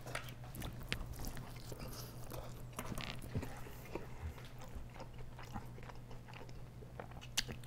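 Bites and chewing of a bacon chili cheeseburger, close and fairly quiet, with soft crunchy mouth sounds over a steady low background hum; no talking.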